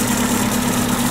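A warm 1.3L Suzuki Samurai engine idles steadily at around 900 to 1,000 RPM, a constant low hum with a fixed drone and no talking over it.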